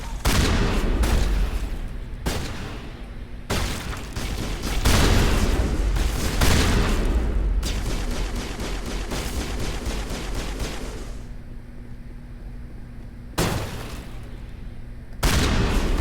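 Rapid bursts of gunfire from Mass Effect rattle out in loud, dense volleys, broken by short gaps and a few heavy booms, with sustained shooting through the middle stretch.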